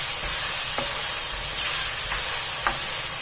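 Cinnamon stick, bay leaf and cardamom sizzle steadily in a pan with a constant hiss, while a few light stirring scrapes sound at intervals.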